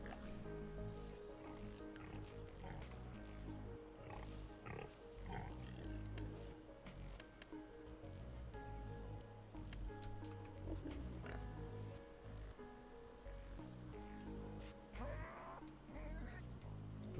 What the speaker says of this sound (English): Bloody pigs, man.